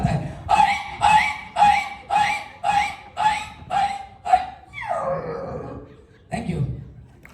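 A performer vocally imitates a dog yelping when struck, giving about nine rhythmic, evenly spaced yelps followed by a drawn-out falling whine, then a short final cry, loud and close.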